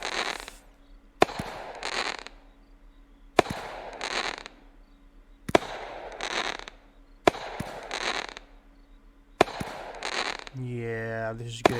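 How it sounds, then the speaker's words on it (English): Firework cake shots in the video game Fireworks Mania, launching flaming balls: six sharp, loud bangs spaced about a second or two apart, each followed by a hissing burst, then a rising whistle at the end. "Morning shoots flaming balls."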